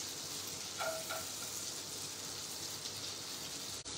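Constant hissing sizzle of garlic frying in melted butter, close and even, with a brief clink near the start.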